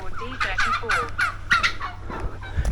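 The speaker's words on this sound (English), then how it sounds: "oh, the turkeys." Turkeys gobble repeatedly on French farmland, several rapid warbling calls in quick succession, fairly close and loud against a low rumbling background.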